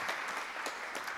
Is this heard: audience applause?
yes